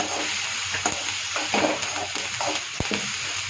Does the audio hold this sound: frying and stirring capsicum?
yes